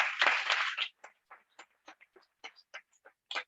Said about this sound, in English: Big round of applause for all that.